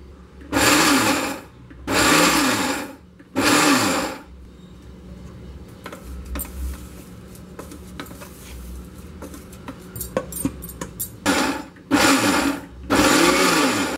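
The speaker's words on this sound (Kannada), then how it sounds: "ಮಿಕ್ಸಿ ಜಾರ್ಗೆ ಹಾಕಿದ್ದೀನಿ. ಇದನ್ನ ಪೌಡರ್ ಮಾಡ್ಕೊಳ್ಳೋಣ." Mixer grinder jar powdering roasted peanuts into medium-coarse chutney powder, run in five short loud pulses of whirring grind separated by quieter gaps.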